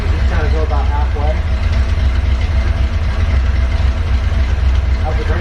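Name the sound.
Ford Bronco engine starting and idling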